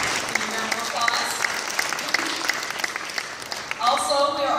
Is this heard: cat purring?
no